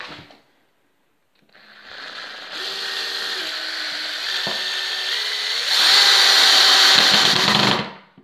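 Power drill driving a screw into a wooden batten held by a clamp while building a wardrobe, a brief burst, a pause, then a steady rising whine for about six seconds that grows louder near the end and stops abruptly, close and loud.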